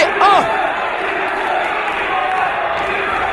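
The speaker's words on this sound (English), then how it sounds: "I don't know if you heard the crowd here at the whole City Hall, but chanting for Gibson." Wrestling crowd inside a City Hall venue chanting for a wrestler, a continuous loud roar of many voices with rhythmic chant swells, carried on throughout with a brief shout near the start.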